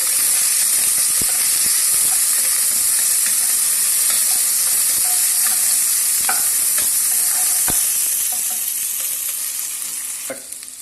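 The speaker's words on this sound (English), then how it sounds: "Saute the capsicum for few minutes." Capsicum sautés in a hot pan, a loud continuous sizzle broken by occasional sharp ticks of stirring, easing slightly toward the end as the heat is lowered.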